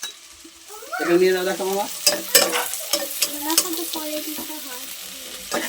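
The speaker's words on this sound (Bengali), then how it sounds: "দিয়ে আমরা মিশ্রণকে ভালোভাবে নাড়বো।" Onion with dried and green chilies frying and being stirred in a pan, with loud sizzling and repeated scraping strokes from the spoon, while people talk over it up close.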